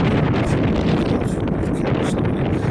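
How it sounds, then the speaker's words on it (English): Strong wind buffets the microphone outdoors at Boudica's Mound in London, a loud, continuous roar with gusty rises, no speech. "The wind's got up."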